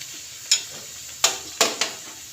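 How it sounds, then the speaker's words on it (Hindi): Bread slice pakoras coated in batter fry in hot oil with a steady, faint hiss, broken by a few sharp clicks and taps spaced about a second apart. "ऐसे ही मैं एक एक डालती जाऊंगी, फ्राई करती जाऊंगी।"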